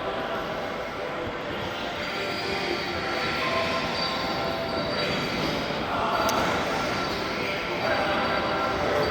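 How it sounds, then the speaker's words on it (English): A train rumbles past a mall in Lewisville, Texas, a dense, continuous roar of wheels and rail noise at steady volume for the whole stretch, with faint high squeal. "I'm gonna wait for this train to leave so y'all can hear me better."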